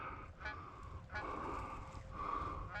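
Geese honking in flight during an Alberta waterfowl hunt, repeated calls in irregular bursts, faint and distant over a quiet outdoor background.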